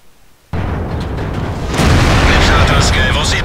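A loud, sustained explosion rumble bursts in from near silence and swells into a dense roar as a tank is destroyed in the World of Tanks video game.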